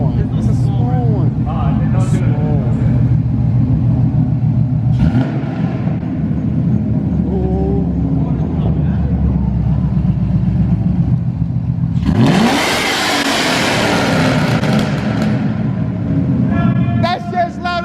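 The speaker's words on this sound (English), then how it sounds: "I'll rev it for you" Car engine on a vehicle being readied for a Toys for Tots event revs up and settles back, a loud close rumble with a sharp rising surge near the end, while people talk nearby.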